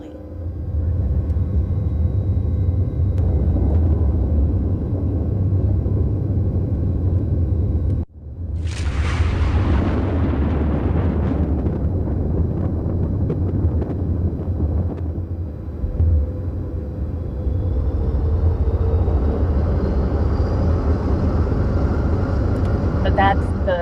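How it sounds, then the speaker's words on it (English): A virtual airplane takes off in a virtual reality exposure therapy simulation, a loud continuous engine rumble with a sudden whooshing surge partway through that builds and then settles into a sustained roar. "That's the virtual airplane"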